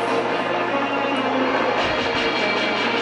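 A helicopter approaches in the video game Far Cry 3 Blood Dragon, a steady, dense rotor and engine roar that holds at one loud level throughout.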